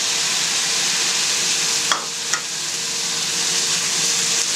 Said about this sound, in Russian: Через 5 минут, когда перчик обжарился, добавляем сюда нарезанные помидоры.